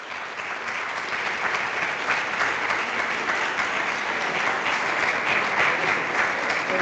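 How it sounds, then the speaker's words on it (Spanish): A university conference audience gives sustained, steady applause for a speaker, a dense wash of clapping that holds evenly throughout without voices. "Le presentamos a Tano con un aplauso."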